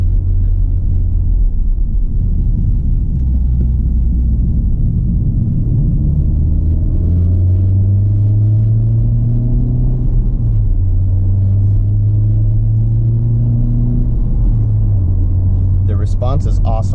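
Steady low rumble of a 2018 Honda Civic Type R FK8 turbo engine while driving, its pitch rising and falling through the revs inside the cabin, continuous and fairly loud.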